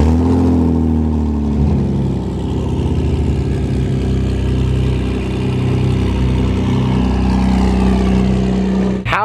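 BMW M4 race cars at the Goodwood Festival of Speed, their exhaust exiting where the rear window would be, rev loudly and continuously from up close, with the engine note rising and falling for about nine seconds and no talk over it.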